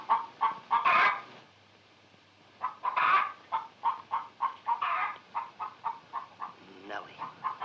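A hen clucks in a steady run of short, repeated bursts, loud and close with brief pauses, in a comic fairy-tale setting where the bird lays golden eggs.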